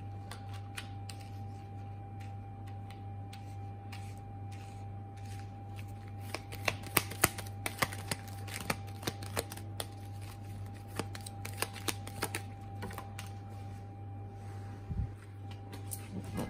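Tarot cards being shuffled by hand: a steady riffling patter of small card flicks and snaps, close and fairly quiet over a low constant hum, with brief sharper bursts toward the middle.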